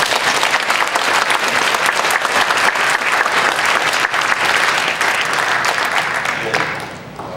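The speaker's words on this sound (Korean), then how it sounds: "우리 다시 한번 박수하도록 하겠습니다" Congregation in a church breaks into sustained, loud applause from many hands, steady throughout and tapering off slightly at the very end, with no talking over it.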